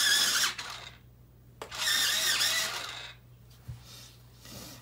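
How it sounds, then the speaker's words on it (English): A blue colored pencil, number 534, ground in a sharpener in two bursts of high whirring grind with a pause between, then a shorter faint burst, close and fairly loud over a low steady hum. "Give it a sharpen"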